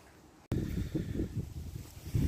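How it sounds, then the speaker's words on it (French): Strong wind buffets the microphone on the rooftop of an abandoned military barracks, coming in as a sudden loud low rumble that gusts unevenly and persists. "désolé pour le vent"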